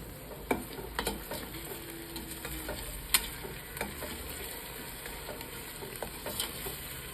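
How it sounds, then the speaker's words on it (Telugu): Onions and a green spice paste frying in a pan for Dindigul thalappakatti chicken biryani, with a soft sizzle and sharp, irregular clacks of a spoon stirring against the pan. "అది కూడా వేసేసుకొని బాగా దోరగా ఫ్రై చేసేసుకోవాలి"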